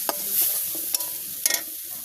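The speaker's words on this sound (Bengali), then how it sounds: "এর জন্য আমি পেঁয়াজ, আদা, রসুন, জিরা বাটা এগুলো কড়াইয়ে দিয়ে এর সাথে হলুদ মরিচ দিয়ে ভালোভাবে মিশিয়ে নিচ্ছি।" Onion, ginger, garlic and cumin paste with turmeric and chili being stirred in a wok, a close, soft sizzle with a few sharp scraping strokes of a spatula, no talking.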